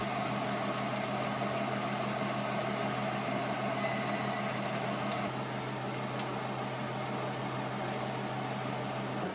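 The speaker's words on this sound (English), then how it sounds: "in the back of the machine there's a motor which introduces a column of air" A seed-cleaning winnowing machine's motor drives a steady column of air, giving a continuous, even whir and hum at close range with a constant low tone, no talking.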